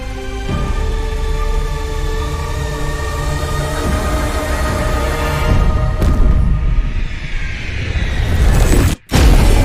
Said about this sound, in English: The explosion from the mountain shrine covered the land in darkness.